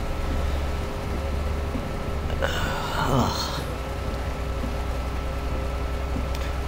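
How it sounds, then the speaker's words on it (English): Steady, soft hiss of rain pours continuously while driving a truck in Euro Truck Simulator 2, with a brief swishing passage of noise in the middle. "The rain's making me feel cold."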